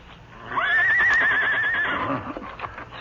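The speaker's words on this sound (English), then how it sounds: "Suddenly, he was awakened by a whinny from his horse Scout." A horse lets out a single loud, drawn-out whinny with a wavering pitch that rises and falls, close and clear, in an old radio drama night scene. It fades into quieter background noise at the end.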